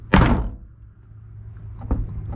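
A Nissan Figaro car door swings shut onto its striker plate with one firm, close thunk, followed by a quiet room and a faint second knock near the end.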